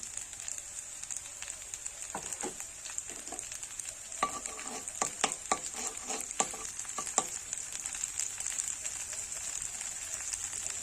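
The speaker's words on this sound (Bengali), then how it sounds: "তেলের মধ্যে দিয়ে দেবো আমি কিছু রাঁধুনি।" Radhuni spice frying in hot oil for a Bengali stir-fried kalmi greens dish, a steady soft sizzle with scattered crackles and light stirring clicks throughout.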